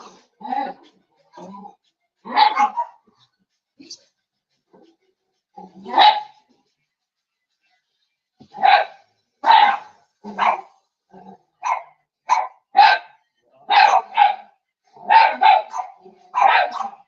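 Dogs bark in repeated bursts, a few scattered yaps at first, then a rapid, loud run of sharp barks, close by with near silence between them.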